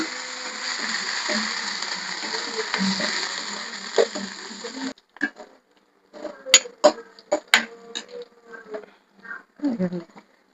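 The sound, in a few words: dried red chillies frying in oil for tempering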